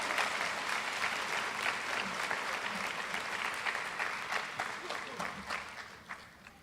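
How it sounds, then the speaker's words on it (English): An audience at a high school athletic banquet gives a sustained round of applause for all-conference athletes, dense clapping that carries on for several seconds before tapering off. "Give them a good round of applause."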